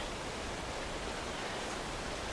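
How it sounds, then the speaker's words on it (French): A small mountain stream flows through a snowy landscape, giving a steady, even broadband rush of water that holds constant throughout, with no voices or other sounds. "le petit ruisseau, c'est le seul bruit que j'entends."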